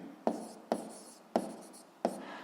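Pen on paper writing down a math answer: four distinct scratchy strokes, each starting with a sharp onset and trailing off, close and quiet, with no speech.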